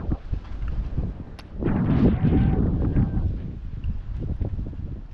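Strong, gusty wind buffets the microphone outdoors by the water, a rough roar that swells and peaks around the middle before easing back to a steady rush, with no voices.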